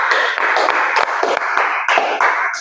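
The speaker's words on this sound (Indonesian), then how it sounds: "Tepuk tangan buat kelompok 2." A classroom of students applauds a presenting group during a school tolerance project session. Steady, dense clapping runs through the whole stretch, with a few sharper individual claps standing out.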